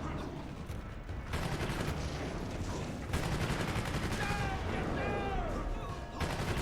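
Loud, continuous gunfire comes from shooting into the air in the video game Prototype, with rapid bursts of shots close by and a brief pause before the firing picks up again, and game sounds are layered over it.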